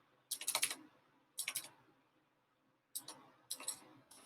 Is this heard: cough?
no